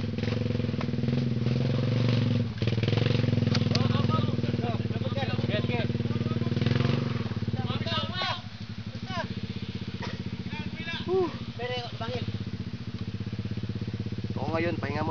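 Motorcycle engines drone steadily nearby and pass by on a ride between General Santos and Tupi, Philippines, with a person talking over the rumble and a breathy, whistling wind noise.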